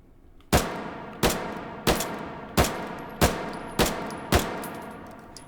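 Seven sharp M1912 pistol shots fired at an even pace about two-thirds of a second apart, each a loud crack with a short ringing decay.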